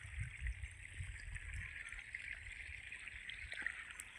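Irrigation water flows steadily into a chickpea field with a soft gurgling trickle, continuous and fairly quiet, with a low rumbling undertone and no voices.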